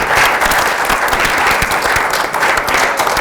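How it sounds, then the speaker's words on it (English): Steady, loud audience applause fills the room at a conference panel session, sustained even clapping without a break. "Please, round of applause for the panelists."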